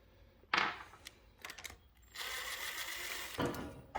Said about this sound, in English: So now we loosen up the 4 bolts.